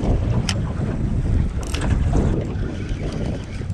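Steady wind buffets the microphone while fishing from a boat on open water, a continuous loud rushing roar with a few brief gusty bursts and no talking.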